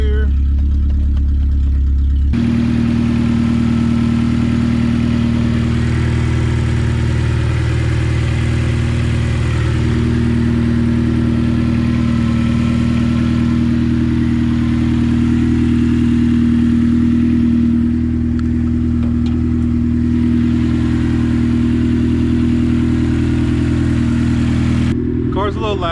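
A K-swapped car sits idling in neutral during an electric fan install, its engine holding a steady, loud drone with a constant low hum and light clatter throughout, no talk over it.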